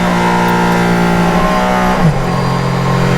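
Mercedes-AMG ONE pre-production hypercar running on the Nürburgring, a loud, close, steady engine drone with strong tonal harmonics that dips in pitch near the end, with no talk over it.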